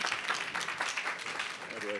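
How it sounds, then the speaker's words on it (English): Conference audience clapping for panel speakers joining the stage, a soft, light patter of applause that is distant and brief, with a voice faintly heard near the end. "You can give them a round of applause, yeah?"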